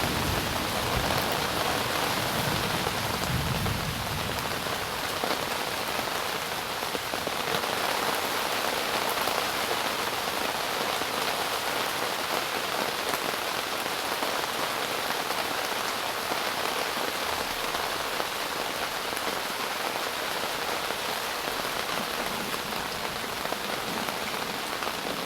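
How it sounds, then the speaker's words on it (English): Heavy rain pours down steadily at Huntsville State Park during tornado weather, a dense, even hiss of drops drumming on surfaces that continues without a break, with no voices. "Man, that rain's coming down."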